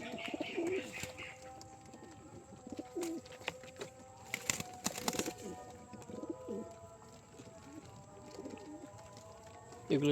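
Pigeons coo in soft, repeated throaty calls scattered through the clip while drinking water, with young pigeons nearby and some clattering and rustling in between.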